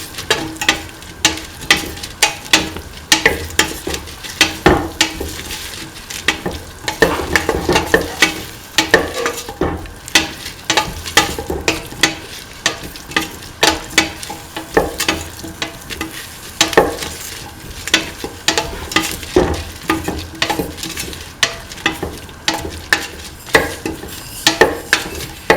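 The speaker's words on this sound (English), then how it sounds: "Thoroughly mixing the tomato pieces" Tomato pieces are stirred in a sizzling pan for a mung bean and snake gourd stew, a spoon scraping rhythmically over steady frying crackle, close and continuous without any voices.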